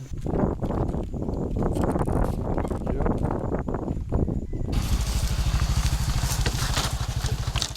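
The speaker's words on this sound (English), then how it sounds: "I'm on the back of this little guy's motorcycle" A small motorcycle engine buzzes steadily under heavy wind rush, heard from the passenger seat on a ride in Vietnam, then the motor's rapid putter becomes clearer and more rhythmic as the ride continues.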